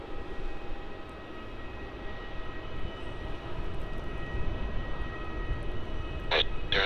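An airliner takes off from runway 16 at Melbourne Airport, bound for Hobart. Engine roar builds as a continuous broad rumble with a steady tonal whine, heard from a distance, and a brief sharp burst near the end.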